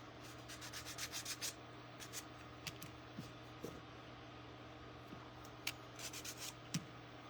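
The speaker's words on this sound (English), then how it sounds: "I'm going to give these a little sand just on the edges where I cut them." Sandpaper rubbing along the cut edges of wooden Santa plaque pieces, quick bursts of scratchy back-and-forth strokes in short groups with pauses between, close and fairly soft.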